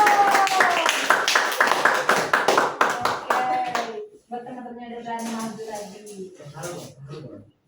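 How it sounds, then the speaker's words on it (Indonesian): An audience claps hands in quick, rhythmic sharp claps for about four seconds, then the clapping stops and people talk. "Tepuk tangan dong."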